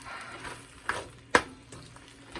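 Vegetables stir-fry in a pan for a Chinese budget dish, a soft steady sizzle broken by a couple of sharp clicks as a utensil strikes the pan, close and alone without talk.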